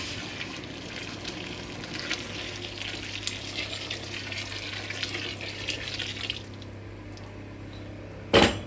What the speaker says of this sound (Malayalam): അപ്പം ഇനി തിളച്ച വെള്ളം നമുക്ക് ചേർക്കാം.